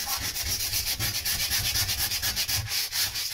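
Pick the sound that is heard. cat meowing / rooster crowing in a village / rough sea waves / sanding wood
sanding wood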